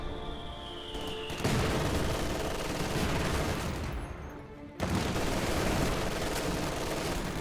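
Video game time-on-target artillery barrage landing on a central circle, a dense roll of heavy blasts and rumbling impacts that surges, eases briefly, then pounds on loudly without speech.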